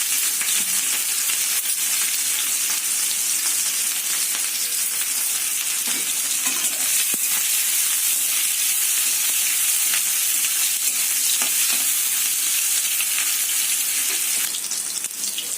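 Onions frying in oil in a kadai for an Odisha-style chicken and potato curry, a steady dense sizzle that holds loud and close throughout with small crackles and no talk over it.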